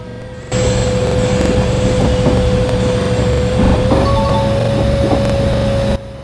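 A train in an Android train simulator game gains speed, its steady engine hum holding one sustained tone that rises slightly partway through, over a continuous rumbling drone that starts abruptly and cuts off near the end.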